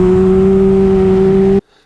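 A racing motorcycle at Jerez circuit holds a loud, steady engine drone on the throttle, close and constant, then cuts off abruptly.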